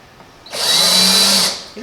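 A power drill bores countersink holes to recess screw heads below a wood surface, a steady high whine rising for about a second then cutting off, loud and close, with no talk over it.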